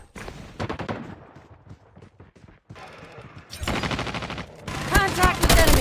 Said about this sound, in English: Sentry gun ready to deploy.